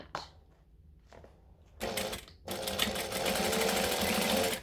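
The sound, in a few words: sewing machine stitching a pouch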